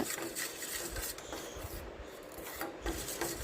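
A thick kaolin soap mixture with oil is stirred, giving a soft, continuous scraping and rubbing at close range. The sound is fairly faint, with no one speaking.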